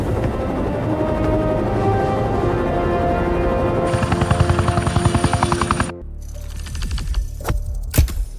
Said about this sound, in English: Lucas Gray will come pick us up in his helicopter.